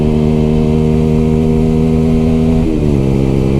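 Loud, steady drone of a 125cc motorcycle engine fitted with an aftermarket exhaust, idling or holding revs with a brief dip in pitch near the end, close and continuous with no talking.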